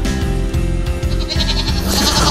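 A goat in distress bleats inside a barn, loud and close, with repeated strained cries and rough noise building toward the end.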